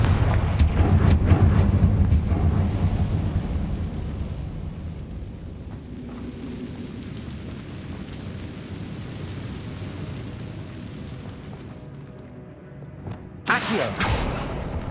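Confringo blasting spell explosions in Hogwarts Legacy: a loud booming blast rolls out and fades into a low rumble, then another sharp explosion bursts near the end.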